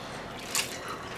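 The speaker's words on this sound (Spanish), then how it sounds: "Una vez que tiene el colador, le sacamos todo el exceso de agua" Water drains from soaked chulpe corn in a colander, giving a soft wet drip and trickle with one brief splashy burst midway, close and quiet, without speech.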